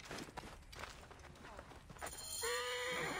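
In Assassin's Creed Origins gameplay, faint hoofbeats and movement, then a horse neighs loudly near the end, with muffled voices underneath.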